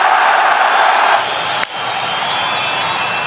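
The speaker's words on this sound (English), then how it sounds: "Have you ever heard a crowd like this?" An arena crowd roars at UFC 284 in the closing seconds of the third round of Makhachev vs. Volkanovski: a dense, sustained wall of cheering voices, broken by a single sharp thud partway through.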